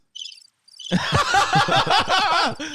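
Cricket chirps used as a sound effect after a joke falls flat: a short, faint burst of high chirping followed after a gap by steady, louder overlapping chirping that continues to the end.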